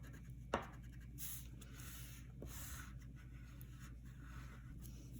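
A pen or marker scratching over a handwritten name on paper to darken it, soft repeated rasping strokes close up with one sharp tap at the start, quiet and without speech.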